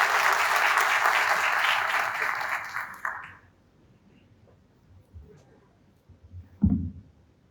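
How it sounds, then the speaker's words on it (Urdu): A Sunday worship congregation applauds a pastor in a full burst of clapping for about three seconds, then cuts off into near silence broken by a few small knocks. "ہم تالیوں میں پاسٹر افراہیم سلامت کا استعمال کریں۔"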